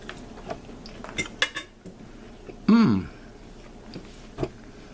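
Cutlery clinks and scrapes against a plate during a tasting of steak Diane sauce, a few light taps then one louder ringing scrape, close and intermittent over quiet room tone.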